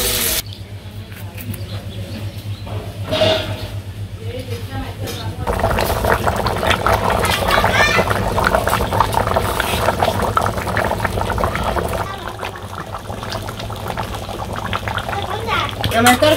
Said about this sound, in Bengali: আমার মাংসটা কষানো গেছে না, আমি ঝোলটা দিয়ে দিই।